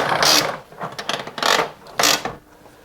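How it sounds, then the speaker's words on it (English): Goodyear wall-mountable retractable air hose reel pulled out and latching, giving three loud bursts of ratcheting clicks and mechanical rattle with short pauses between them, close up and with no talk. "to pull it out, you can lock it in place at any spot you want"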